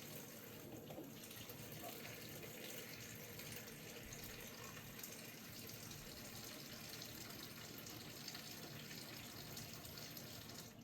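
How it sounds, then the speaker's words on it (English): Running tap water pours steadily into a basin, a continuous hissing splash that stays even throughout. "I'm going to fill up the basin about a quarter of the way with comfortably warm"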